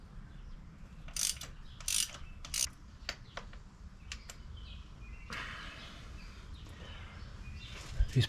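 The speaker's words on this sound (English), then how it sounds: "let's get this valve cover off" A ratchet clicks in several short bursts while loosening bolts on an engine valve cover, followed by quieter scraping and mechanical handling sounds in a quiet garage.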